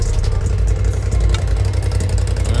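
A 2008 Acura TL Type S with mid and rear cat delete exhaust runs loud and close, a deep droning engine note with rough pulsing revs and slight rattling clatter, no talking.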